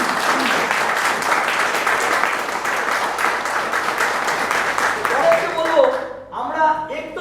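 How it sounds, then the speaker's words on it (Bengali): A crowd at a business meeting bursts into loud, sustained applause with dense overlapping claps; near the end it thins out and a voice starts speaking. "নিজের জন্য আরেকটা হাত তালি হয়ে যা"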